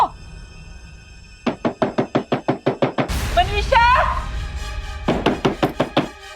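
Knocking on a house door sounds in two quick bursts of about ten sharp, even raps each. Between them a person calls out, over a low steady hum.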